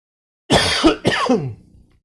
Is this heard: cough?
yes